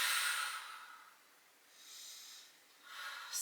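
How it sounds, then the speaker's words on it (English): Slow, deep breaths drawn in and let out during a seated yoga twist: an airy inhale fading into a quiet pause, then another breath swelling near the end, close and soft with no talking. "Again, breathe in, breathe out."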